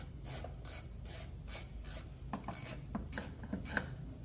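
A ratchet wrench cranks out a bolt on a 2013 Harley-Davidson, giving close, crisp rapid clicking in about ten evenly spaced bursts, with no talk over it.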